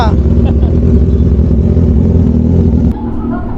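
A 2024 Kawasaki ZX6R motorcycle engine runs loud and close with a steady mid-pitched drone that drops in intensity near the end.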